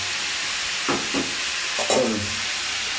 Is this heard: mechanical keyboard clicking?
no